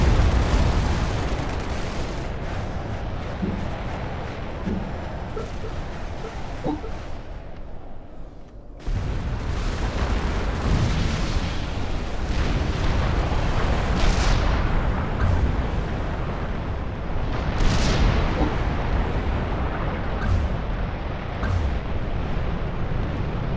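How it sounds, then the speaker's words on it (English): Strategic missile launch in the real-time strategy game Supreme Commander: a dense, continuous roar of explosive rumble and booming blasts that drops out briefly, then resumes with heavy, sustained thunder and scattered sharp bursts. "Strategic launch detected."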